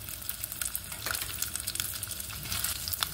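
Chana dal, garlic and dried red chillies frying in hot oil, a close, steady sizzle with light stirring scrapes throughout.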